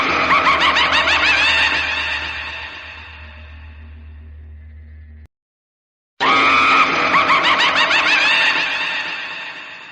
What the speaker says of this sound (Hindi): उसी वक्त जोर जोर से किसी के चिल्लाने की आवाज जंगल की ओर से आ रही थी।